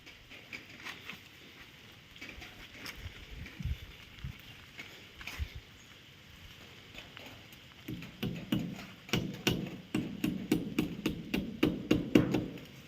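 Repeated hammer blows on wood while building a chicken coop, scattered strikes at first, then a steady run of loud, closely spaced knocks near the end, with little talk.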